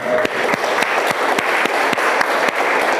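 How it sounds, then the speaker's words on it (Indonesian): An audience at a university teaching-session event claps together, a loud, dense burst of applause with sharp individual claps standing out throughout. "Boleh kita tepuk tangan untuk kita semua."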